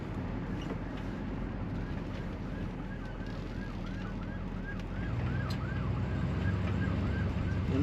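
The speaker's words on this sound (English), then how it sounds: "I don't know if you can hear that siren." Emergency vehicle siren passing outside a 1970 Pontiac Catalina 400 convertible, a faint repeated wailing sweep under steady road and engine noise.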